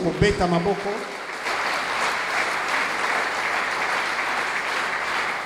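Sunday church service congregation applauding and cheering at length, dense steady clapping from a large crowd, with a voice speaking briefly at the start before the applause takes over.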